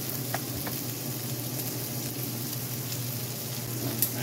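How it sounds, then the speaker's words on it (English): Pieces of cut meat sizzle steadily in a skillet turned down to warm heat, a continuous close frying crackle with a few soft clinks and one brief knock near the end. "Now I'm just going to cut up the meat and put it back on the skillet."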